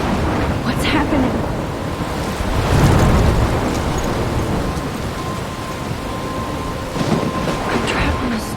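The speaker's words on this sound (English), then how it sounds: "I'm trapped in a storm?" A thunderstorm in the video game Life Is Strange: steady heavy rain with a deep rolling rumble of thunder swelling in the middle, loud and enveloping, with faint voice-like sounds under it.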